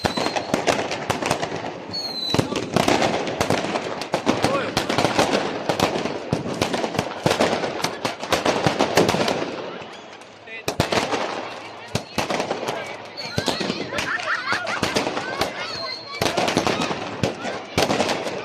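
Firecrackers crackle and pop in dense, rapid bursts on Diwali night in Dubai, with near and distant bangs overlapping almost without pause and a brief lull midway.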